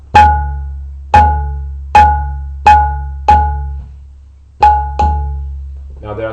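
Tabla combination stroke da, with ta and ge played together: seven resonant ringing strokes with a deep bass boom and a bright pitched ring, each decaying, struck at a steady, unhurried pace and close up, with no talking.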